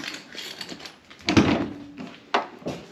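Rear door with a one-piece tire carrier on a Jeep Wrangler JK being unlocked and swung open: a few close mechanical clunks and latch clicks, with a louder thump midway and another sharp knock near the end.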